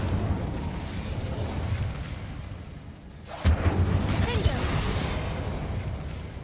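A fire spell bursts into flame in Hogwarts Legacy, a sudden whooshing ignition midway that swells into a roaring, crackling burn, following a quieter ambient stretch; no talking over the effect.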